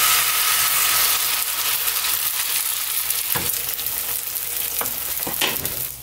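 Beaten egg mixed with finely chopped barley sprouts frying in a pan for a rolled omelette, a steady close sizzle with a few soft scraping taps near the end.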